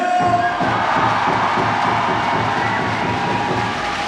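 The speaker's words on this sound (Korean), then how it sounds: "거침없이 우승까지 받으시다면 박수와 함성을 보내주세요" Volleyball crowd in a packed arena applauding and cheering with rhythmic clapping and chanting, loud and steady for the whole stretch.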